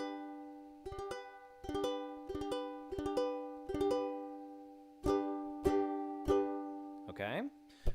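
Ukulele chords are strummed in a steady rhythm, several chords ringing out clearly with bright plucked attacks. A quick sliding string sound follows near the end.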